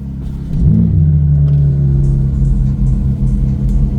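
A BMW M3 or M4 engine starts up and settles into a loud, deep rumbling idle with slight revving, close by and continuous.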